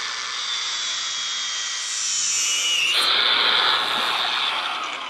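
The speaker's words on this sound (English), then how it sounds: "Grinder on, stopwatch on," An angle grinder cuts steadily into a Hiplock D1000 bike lock, giving a loud continuous high-pitched whine that shifts and grows harsher partway through. No voices are heard over it.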